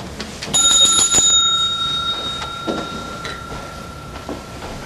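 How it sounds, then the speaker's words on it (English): A bell rung two or three times in rapid succession, the bright metallic tones sounding close and clear and then lingering and fading into a quiet room, with no one speaking. "Be so good as to ring the bell 2 or 3 times in rapid succession, Watson."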